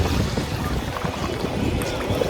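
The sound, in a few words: waves hitting boat on water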